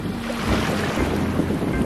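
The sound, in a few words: Atlantic Ocean waves from a boat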